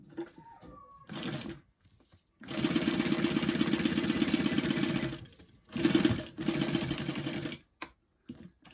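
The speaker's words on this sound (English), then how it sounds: "I'm just going to stitch around the entire pocket first" A sewing machine stitches around a fabric pocket on a one-piece tote in several loud, close bursts of rapid mechanical whirring, separated by short pauses.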